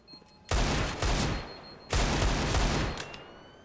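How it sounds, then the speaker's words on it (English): Bursts of rapid gunfire erupt in a Counter-Strike esports match, two dense volleys of overlapping shots separated by a short pause, loud and close with no talk over them. "These boys are firing off right now."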